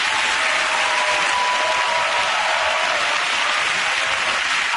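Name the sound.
studio audience applause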